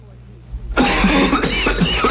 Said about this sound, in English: with this nasty cough plus congestion, I need Formula 44D